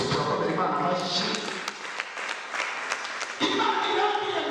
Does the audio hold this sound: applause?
yes